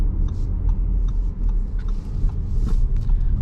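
A 2023 Audi Q5 45 Premium Plus with a turbocharged engine accelerates at half throttle, a steady mid-pitched engine drone heard from inside the cabin with no talking.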